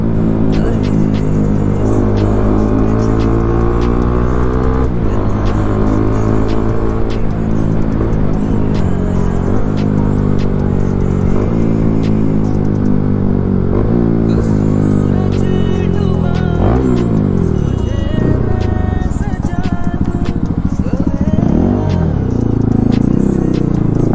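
A modified Bajaj Pulsar NS200 motorcycle with an Akrapovic exhaust revs and drops repeatedly as it shifts down through the gears, the exhaust note rising and falling in loud, rapid steps.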